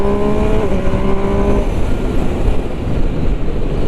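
A Triumph Trident 800 motorcycle engine revs to 6000 rpm in second gear, loud and close, its rising harmonic whine giving way to a dense, roaring blare with no talking.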